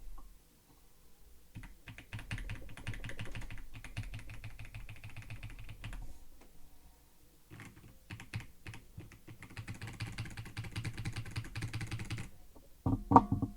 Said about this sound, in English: So I'll tap a little bit on my keyboard here.